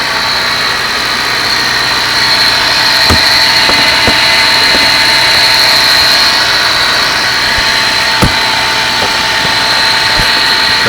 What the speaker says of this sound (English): the compressor just kicked in off that 1